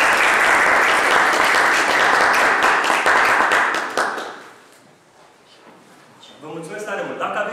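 An audience claps after an Ayurvedic massage technique talk, dense applause for about four seconds that then fades out, followed by someone speaking.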